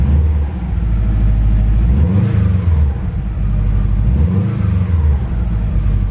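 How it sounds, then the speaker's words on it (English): A Subaru STi engine idles with a deep, steady rumble and no check-engine lights on. Two short throttle blips rise and fall, and no one speaks over it. "Give it a little rev."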